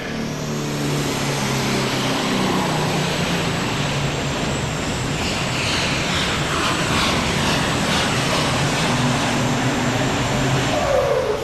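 Roaring engine of the High-Tech Redneck tractor at a tractor pull at the National Farm Machinery Show, a loud sustained bellow that holds steady throughout under a wash of crowd and arena noise.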